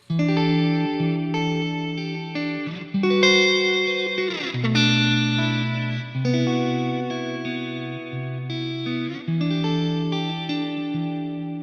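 Electric guitar chords ring out with shimmering chorus, grit and reverb, several sustained voicings changing slowly and played alone.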